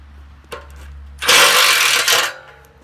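A power screwdriver drives screws into the corners of a Dominator jack during repair, a faint tap first, then one loud, close whirring burst lasting about a second before it stops.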